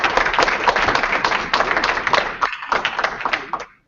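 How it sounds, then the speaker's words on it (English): An audience gives a round of applause for Becky Hurwitz, loud close clapping from a group with distinct individual slaps, a brief lull near the end, then a final burst that tapers off. "can we give a round of applause to Becky Hurwitz?"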